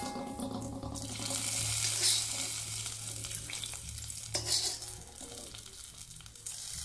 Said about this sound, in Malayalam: അതിനിടയ്ക്ക് ഞാൻ ആ ചീനച്ചട്ടിയിൽ ഇപ്പോൾ മീൻ ഫ്രൈ ചെയ്യാനും ഇട്ടിട്ടുണ്ട് കേട്ടോ.